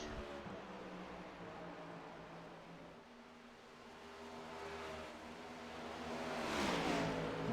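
Race cars in a racing video game wind back up to speed after pit stops, a dense engine drone that dips and then swells louder toward the end, with no voices.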